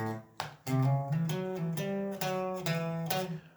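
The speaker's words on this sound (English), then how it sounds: "I'm sure you're familiar with a riff that sounds like this." A short guitar riff of plucked notes with a bluesy slide, played close and clear, with no talking.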